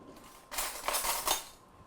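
Seasonings and a little oil mixed with a utensil in a bowl, heard as a short burst of clinking and scraping strokes, close and fairly soft, then quiet.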